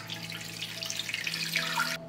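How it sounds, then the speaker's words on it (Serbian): Water pours steadily into a pot over large potatoes, a close splashing stream that stops abruptly near the end. "I zatim ću sipati vodu da prelije krompir."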